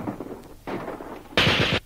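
Gunfire effect from an old wartime radio drama: a brief barrage of sharp, close shots with a louder, harsher burst near the end, heard alone without talk.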